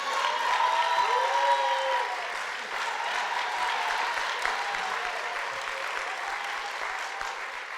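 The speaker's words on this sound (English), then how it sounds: "If you clap a little louder" Crowd applause at an outdoor public announcement with the governor, marking completion of a Sheridan Boulevard roadway project; dense, steady clapping holds loud for nearly eight seconds and eases only slightly toward the end.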